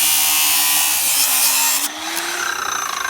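A power tool cuts through a bicycle frame to separate the rear triangle, with a loud, close, high whining grind that shifts pitch partway through as the blade bites the metal.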